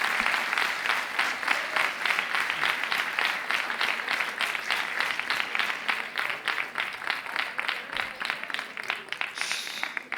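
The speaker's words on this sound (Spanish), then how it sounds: "Aplausos" Sustained applause from an audience closing out a World Water Day talk on oceans and climate change, steady dense clapping filling the whole stretch at even loudness with no voices over it.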